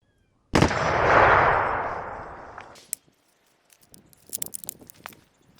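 A single loud rifle shot from an FRT-equipped rifle with a long decaying echo, then scattered metallic clicks and clatter of the action and handling.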